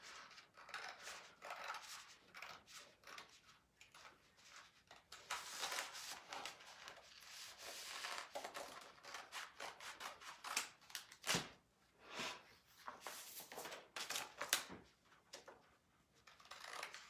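Scissors cut out corners, giving close, quiet clusters of snipping and crunching across a long stretch, with short pauses between runs of cuts.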